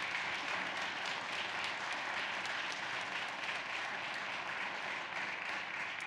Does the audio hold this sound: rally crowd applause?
yes